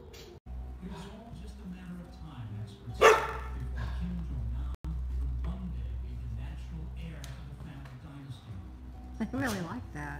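A dog barks a few times, with a sharp yelp and later whining barks, while people talk throughout over a low background hum.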